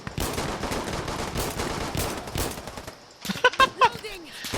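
Rapid pistol shots in the tactical shooter Insurgency Sandstorm, a dense run of close, sharp reports over busy game ambience with speech mixed in, then a brief lull and a few louder isolated pops near the end.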